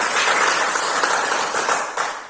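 A classroom of students breaks into a short, steady round of applause, many hands clapping together at close range for a couple of seconds.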